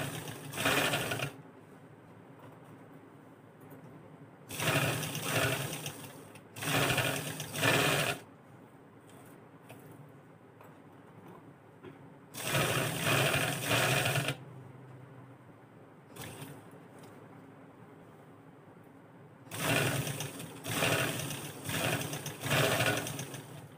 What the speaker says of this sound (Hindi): किनारे पे रख के हम इस पे सिलाई लगाएंगे, और आहिस्ता लगा लें, लेकिन सफाई से लगाएंगे